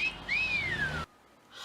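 A single human whistle of the street-harassment kind, one rising then slowly falling tone lasting under a second, fairly clear and alone, followed by near silence.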